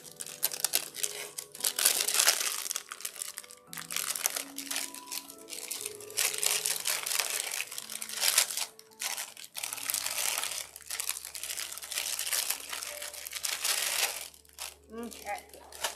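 A plastic baggie crinkles and crushes repeatedly as necklaces are packed back into it, close and fairly loud, with a few soft clinks and a low hum running underneath.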